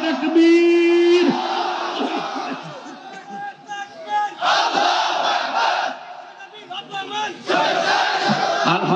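Large outdoor crowd at a Bangladeshi Islamic sermon gathering in Gazipur roars a loud, unified chant in answer to the preacher's takbir call, swelling in repeated surging waves.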